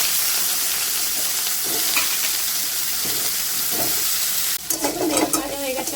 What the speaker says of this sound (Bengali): এই তেলে আমি বেগুন দিয়ে দিচ্ছি